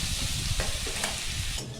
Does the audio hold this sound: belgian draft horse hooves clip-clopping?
no